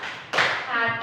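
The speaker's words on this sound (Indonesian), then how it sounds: "untuk Kepsek kita kasih tepuk terima kasih" A group of schoolchildren gives a thank-you clap for a school principal in a classroom setting: a sudden burst of hand claps and taps that rings on briefly, with children's voices faintly underneath.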